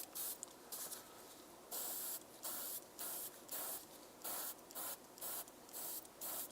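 An airbrush sprays varnish or white paint over a painted Captain America miniature in short repeated hissing bursts with brief pauses between, close and fairly quiet.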